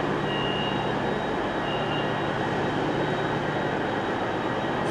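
A train at Stockport station platform gives off a continuous loud rumble and hiss, steady throughout with faint tonal squeals over the noise.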